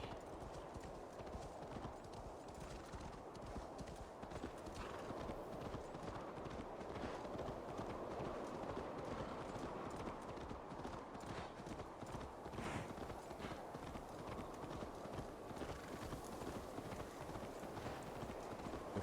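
A horse gallops through snow in the game Assassin's Creed Valhalla, its rapid hoofbeats pounding in a steady, continuous rhythm up close, with no talk over them.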